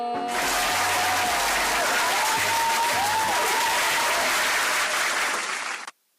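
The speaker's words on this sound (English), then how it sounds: "Round of applause for everyone involved" A crowd applauds at a football preview show for Arsenal v Cardiff City, with steady dense clapping that holds at full strength for about six seconds and then cuts off abruptly.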